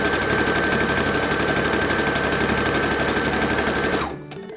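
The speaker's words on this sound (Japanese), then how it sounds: "ミシンの登場。" A sewing machine stitching a homemade cloth mask runs in a fast, continuous mechanical chatter, loud and close, then stops abruptly just before the end.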